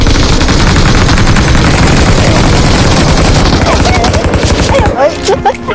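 Automatic gunfire in a first-person shooter video game rattles loud and continuous in rapid bursts for about five seconds, then cuts off abruptly. A few sparse sounds trail afterward.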